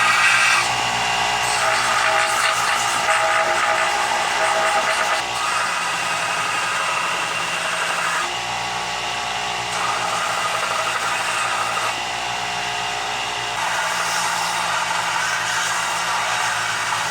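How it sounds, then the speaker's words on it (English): A belt sander grinds and refines the shape of a K-Bar-style bowie knife, a loud, continuous abrasive whine that holds steady throughout with only slight shifts in pitch and pressure, with no voices. "we're going to go ahead over to the belt sander and we're going to refine this shape a bit"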